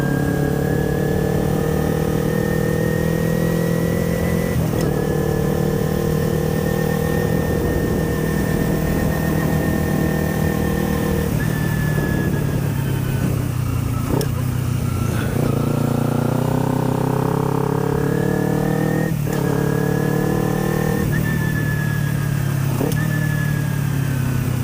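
A loud motorcycle engine runs steadily close by in a quiet residential neighborhood, holding a rough idle with a few surges and brief revs throughout.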